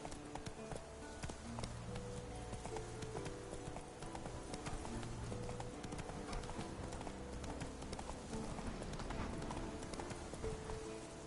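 Horse hooves galloping in The Witcher 3 video game, a fast continuous clip-clop rhythm that stays steady and even throughout.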